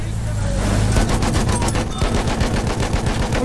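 Machine gun fire in a tank battle game featuring the Amiens 76-8 Putilov armoured car: a steady, rapid, close rattle of shots over a low engine rumble, continuous throughout.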